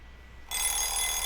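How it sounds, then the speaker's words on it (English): A loud alarm clock bursts into continuous bright ringing partway through, in the video game Nameless, after a quiet start; no one talks. "I groped around for the clock and turned off the loud alarm."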